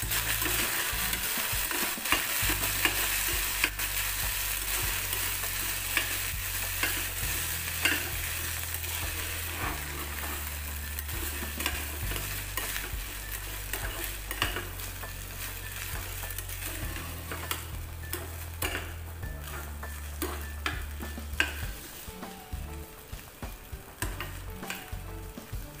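Cooked broken wheat (daliya) roasting in ghee in a pan, a steady loud sizzle with continuous scraping stir strokes throughout, no voices.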